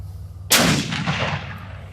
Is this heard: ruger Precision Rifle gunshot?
yes